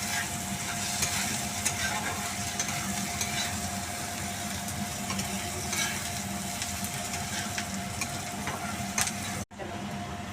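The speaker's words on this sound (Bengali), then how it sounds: "আদা, রসুন, পেঁয়াজ, কাঁচা লঙ্কা আমি দিয়ে ভেজে নিচ্ছি।" Garlic, ginger, onion and green chilli frying in a pan make a steady, dense sizzle with soft stirring scrapes throughout, close and continuous, with a brief dropout near the end.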